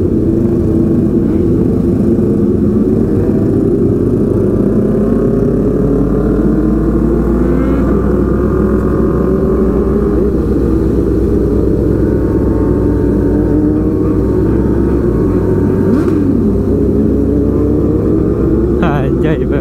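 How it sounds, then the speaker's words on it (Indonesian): A group of 26 Kawasaki four-cylinder motorcycles, including an H2, ride together at night, a loud continuous drone of many engines rising and falling in pitch as riders rev, with voices talking over the din. "Rame ya kan, ada 26 motor."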